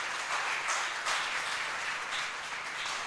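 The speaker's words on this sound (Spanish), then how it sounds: "Y denle un aplauso grande al Señor." Congregation at a Latin church service in Brisbane applauding, a steady, dense wash of many hands clapping that holds evenly throughout.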